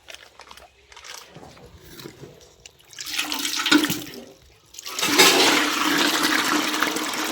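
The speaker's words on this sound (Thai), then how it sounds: "จะเอาน้ำใส่ให้เต็มก่อนนะจ๊ะ" Water pours into a container at a garden where white chili peppers are being planted, a gushing, splashing flow that builds in two stages and grows louder and steadier toward the end, with a faint voice early on.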